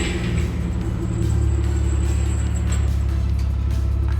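A Nissan 350Z Fairlady Z engine runs loud and close, a deep steady rumble that swells and holds after about a second, with no talk.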